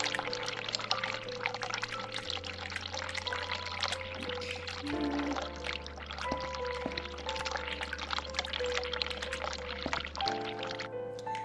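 Cold water pours steadily in The Cat Lady game, a continuous splashing stream heard alone over low droning background music.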